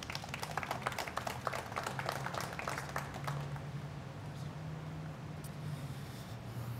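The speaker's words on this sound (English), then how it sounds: "please give a round of applause for the UCARE partnership and also Tom Carter" A round of applause at an outdoor press conference in Salt Lake City, scattered clapping from a small crowd that fades out after a few seconds.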